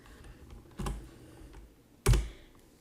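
Two distinct keystrokes on a computer keyboard while typing a short input for a C++ rock paper scissors program, sharp close clicks about a second apart in a quiet room.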